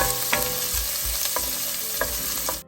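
Garlic and ginger fry in hot oil along with cardamom, cloves and bay leaves, making a loud, close sizzle with several sharp stirring scrapes against the pan and no speech.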